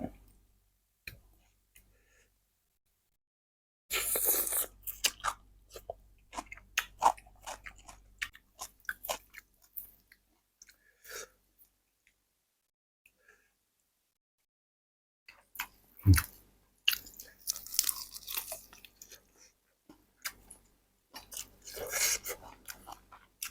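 Crunchy fried pork tail being chewed close up, with bursts of crisp crunching and biting separated by quiet pauses.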